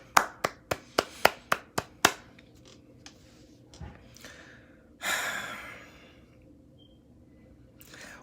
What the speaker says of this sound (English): Everybody clap it up for that comment